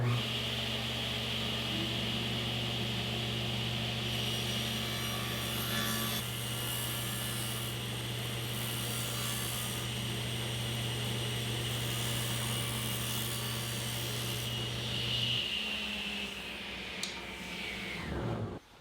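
Power saw cutting the angle off a piece of wooden molding, a sustained whining hum with rasping cut noise rising and falling, then the motor winding down near the end.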